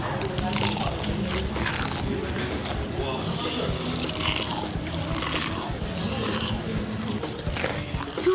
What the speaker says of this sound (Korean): 두 귀를 홀리는 어메이징한 소리에 한 입 두 입 튀김이 계속 들어가.